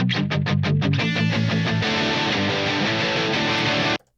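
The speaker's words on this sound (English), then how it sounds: "I just wanted like a little guitar fill" A simple electric guitar fill caps the end of a second verse in a pop-punk style track, with quick palm-muted chugs building into a dense, sustained distorted wash before stopping abruptly.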